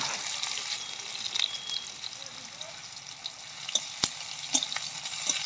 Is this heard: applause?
no